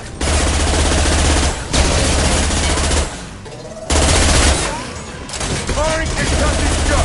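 Dense video game gunfire from Mass Effect 2 roars in loud sustained bursts, broken by a brief lull and a heavy impact shot, with rapid fusillades resuming afterward.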